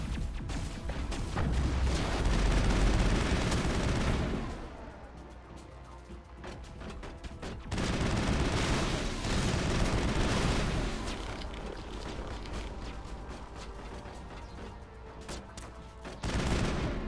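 Gunfire in the video game Mass Effect, sustained rattling bursts with booming impacts, loud at first, dropping away, then rising again in a second long volley before fading.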